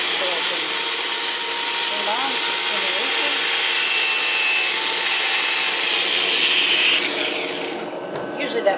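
A big rubber eraser is rubbed back and forth on a clogged sheet of 320 grit sandpaper to clean off dust, a continuous loud scrubbing hiss that fades near the end.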